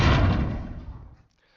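Softer, rounder positive hit impact layer from an audio game: a single dull thud that decays over about a second, then fades to silence.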